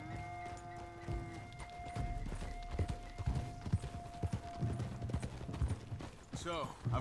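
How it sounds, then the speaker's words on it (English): Horse hooves clip-clop at a steady walking rhythm in Red Dead Redemption 2, with a brief whinny near the end, heard under a voice talking and game sounds. "I like Charles's horse, man. I wish I had something like that."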